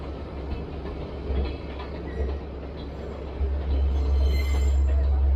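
Train on the railway at Ella, Sri Lanka, a steady low rumble of rolling stock with faint rail clatter, fairly close and continuous, swelling louder toward the end.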